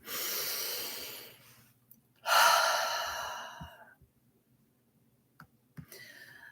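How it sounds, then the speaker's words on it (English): A person takes two long, deep audible breaths during a guided healing exercise, a drawn-out inhale and then a second, stronger one that fades, followed by a few soft clicks in near silence. "And take a breath."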